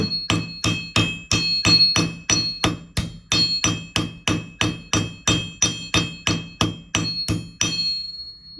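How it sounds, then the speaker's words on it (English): Steady, evenly spaced hammer strikes texturing copper for earrings, about two per second, ringing brightly and close by, with no talking. "I like to hit from all different directions because you get a lot of different texture techniques with your hammer"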